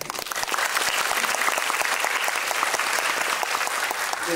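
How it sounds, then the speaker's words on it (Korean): Sustained audience applause at a film festival guest talk after a screening of the Korean film Mogadishu, a dense, steady wash of many hands clapping, loud and continuous throughout. "분명히 다시 한번 박수 드립니다"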